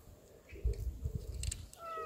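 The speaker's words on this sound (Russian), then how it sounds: "Ну и в конце концов, это же кот." A cat gives a short meow close by, set among soft low thumps and rustling indoor noise, with a faint high tone near the end.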